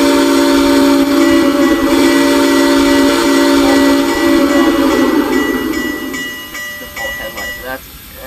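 A steam whistle on an SP GS class locomotive in a train simulator blows loud, long and sustained, then fades, and a few bell strikes ring near the end.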